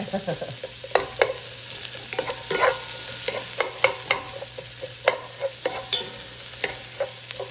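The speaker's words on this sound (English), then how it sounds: "Let's get the mushrooms and onions in there, get them sauteing up." Mushrooms and onions sauté in a pan, a steady sizzle broken by repeated scraping and stirring clicks of a utensil, close and clear with no talking.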